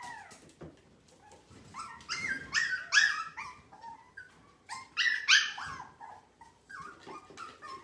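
Small puppies whimper and whine in high, wavering cries, two clusters of overlapping yelps rising and falling close by, with no talking.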